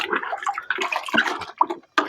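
A mop is dipped into water at a tarpaulin fish pond, producing a series of close, uneven splashes and sloshes, with a short pause before a final splash.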